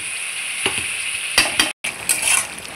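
Chicken pieces frying with onions in a pan for a spicy chicken curry, a steady loud sizzle with brief stirring scrapes and a momentary break, no talking.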